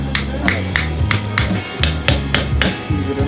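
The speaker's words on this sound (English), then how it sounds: "Use a hammer." Hammer blows driving a part into the solenoid housing of a Denso starter from a Toyota pickup, about ten sharp metallic strikes in a steady rhythm, close and loud over a low hum.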